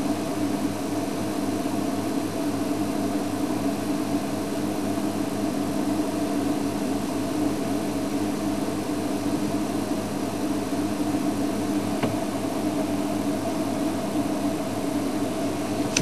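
A safari game-drive vehicle sitting with its engine idling, a steady low mechanical hum and rumble lasting the whole stretch, unchanging, with no voices.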